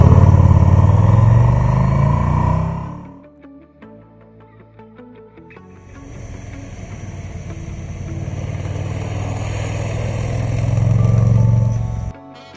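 The engine of a 2020 KTM 1290 Super Duke GT motorcycle runs loud and close, sinks to a quieter idle for a few seconds, then builds back to a strong, steady roar before cutting off. No one speaks.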